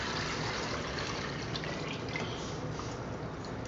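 A gram flour and yogurt mixture for curry pakora pours steadily into a pan of prepared masala, giving a continuous close liquid gush and drip with no talking.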